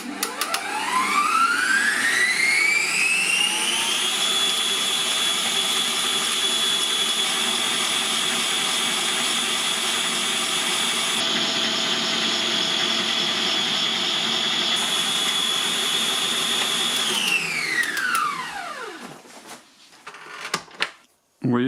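A 1400 W Heichkell stand mixer beating six egg whites winds up to maximum speed, its motor whine climbing, then holding a loud steady high drone before spinning down with a few clunks at the end.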